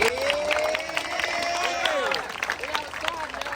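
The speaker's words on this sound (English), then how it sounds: "let's give a round of applause for everyone" A crowd claps and cheers outdoors at a wheelie bike gathering while a voice calls out loudly over the noise.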